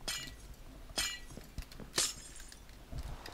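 Glass blocks shatter in Minecraft in a few quick separate breaks, each a sharp crisp crack with tinkling, spaced about a second apart over quiet background.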